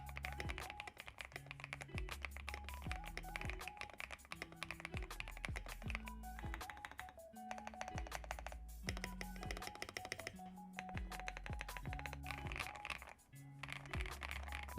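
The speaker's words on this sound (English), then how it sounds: "I'm sure you're dying to hear what it sounds like." Custom mechanical keyboard with lubed stabilizers, tape mod, fresh keycaps and Gateron smoothie switches, typed on steadily and close up in fast, dense rhythmic bursts of deep clacks with brief pauses.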